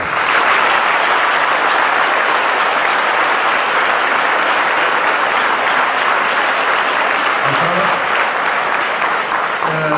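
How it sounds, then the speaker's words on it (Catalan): A crowd gives sustained applause at a Banda Moncada event honouring Pep Botifarra, dense and even throughout, with a brief tonal sound near the end. "es mereix un gran aplaudiment perquè se ho ha guanyat"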